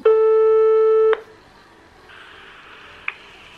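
Phone call on speakerphone: a single long ringback tone about a second long, then a faint line hiss with a soft click near the end, no voices.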